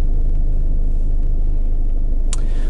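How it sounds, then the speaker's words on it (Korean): A Volkswagen T-Roc diesel SUV sits stationary with its engine running, a loud steady low idle rumble with a brief click near the end. "시동을 걸면"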